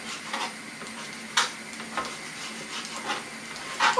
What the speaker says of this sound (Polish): kiełbaskę pokroiłam i podsmażam ją